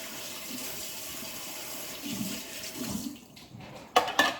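Water runs steadily from a tap while food containers are rinsed out, a close, continuous splashing flow, then a few sharp knocks and clatters at the end.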